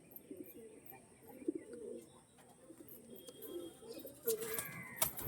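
Breeder pigeons coo softly at a distance, with low murmuring calls under faint background noise and a few brief sharper sounds near the end.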